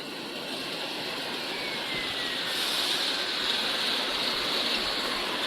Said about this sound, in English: You can see the water in bubbling.